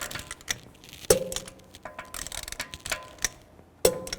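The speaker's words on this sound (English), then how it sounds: "Now I'm just going to torque these lug bolts to 110 foot-pounds." Torque wrench clicking as lug bolts on a BMW X3 front wheel are tightened in a star pattern, two sharp distinct clicks at separate moments over faint mechanical shuffling, no talking.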